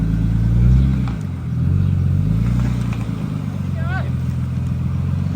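A Nissan R33 Skyline with a forged engine pulls away on a test drive, its engine note swelling and easing near and loud while a person talks over it.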